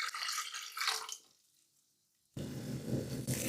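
Water poured from a tap into a cooking pot, a bright splashing gush that cuts off into near silence, then a deeper, fuller rush of filling water returns.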